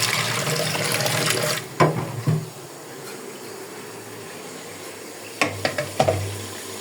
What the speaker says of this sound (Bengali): দুধটা ভালো করে মিক্স করে নিব